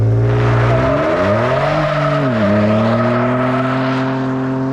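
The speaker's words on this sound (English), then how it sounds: "That means you can do burnouts and then drifting and all that sort of thing on the dirt or on the tarmac" A 2024 Ford Ranger Raptor pickup running hard in a burnout or drift, its engine note loud and close as it rises, dips and climbs again, with a tyre-squeal edge over a steady roar and no talking.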